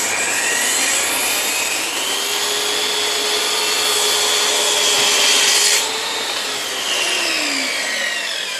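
A power saw blade cuts through wood for an outdoor shower enclosure, giving a loud, sustained high-pitched whine with a droning motor underneath. The pitch shifts toward the end as the cut finishes, and no one speaks.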